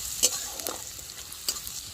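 Onions sizzle in a hot pan while being stirred, a soft steady frying hiss broken by a few sharp scraping clicks of a spoon, close and alone.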